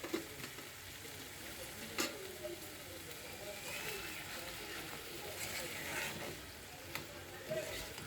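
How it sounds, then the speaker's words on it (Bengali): Beef tripe frying with onions and whole spices such as cardamom, cloves, cinnamon and bay leaf, giving a low, steady sizzle with a few stirring scrapes, fairly faint throughout. "এটাও আমি একসাথে পেঁয়াজ আর বটের সাথে ভেজে নিব"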